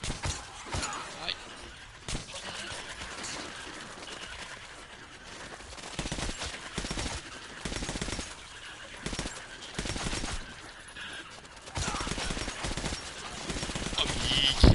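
Gunfire aimed at spider-scorpion creatures in Metro 2033 Redux, dense bursts of shots layered with game noise and a voice talking throughout.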